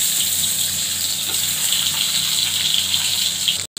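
Stuffed pieces fry in hot oil with a continuous, even hiss and sizzle that stops abruptly at the end.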